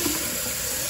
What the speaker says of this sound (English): I'm just gonna fill it up until the rice is pretty much covering the water